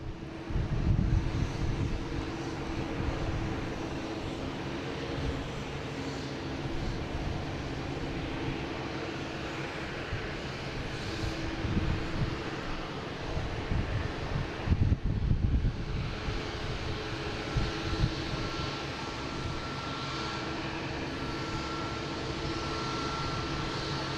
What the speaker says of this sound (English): Next coming in, we have a JetBlue coming from Pittsburgh, an A220.